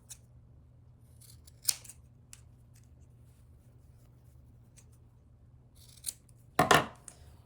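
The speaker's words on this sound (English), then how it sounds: "You just cut the excess off." Scissors snipping off excess fabric after sewing a small cloth wine-bottle bag, a couple of faint close cuts early on and a louder crisp snip near the end, otherwise quiet.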